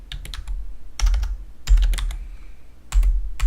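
Rapid typing on a computer keyboard while entering a spreadsheet function, including a press of the Tab key, with clusters of crisp, close key clicks separated by short pauses.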